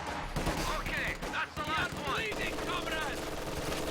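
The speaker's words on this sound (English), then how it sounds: "MG42 managed to suppress those conscripts before they get into the heavy cover" MG42 machine gun fire in Company of Heroes 2, rattling bursts under a busy battlefield mix with whistling effects, while a commentator talks over it.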